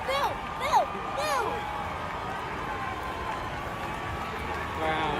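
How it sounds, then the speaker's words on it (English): A small child boos the police at an outdoor street protest, with several wavering, rising-and-falling vocal cries near the start over a steady crowd murmur. "I just hear a small child booing the police."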